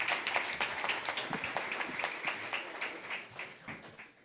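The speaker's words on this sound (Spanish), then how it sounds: "Un aplauso, por favor, para Roberto Figueroa" Audience applause at a leadership forum in Bolivia, steady dense clapping from a crowd sustained throughout, moderately loud and even, with no talk over it.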